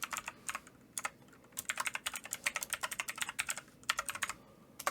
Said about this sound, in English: So you just type in your password and your username.